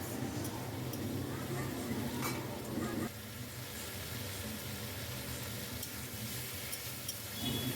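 Spices fry with stem vegetables and potatoes in a pan for a small-fish curry, a loud, continuous close sizzle and hiss that shifts slightly partway through, with no talking.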